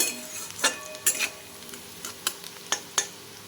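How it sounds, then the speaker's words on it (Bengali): Onions frying in a pan: a constant soft sizzle punctuated by several sharp clinks and scrapes of a spatula against the metal, spaced irregularly, with no voices. "আমি পেঁয়াজটা একটু লাল লাল করে ভেজে নেব।"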